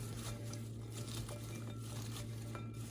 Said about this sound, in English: Okay, so right now, you just wanna hand mix very well.